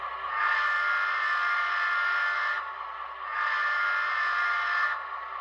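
Two long blasts of a small electronic train horn from a DCC sound decoder in a model train engine, steady and fairly loud, separated by a short pause.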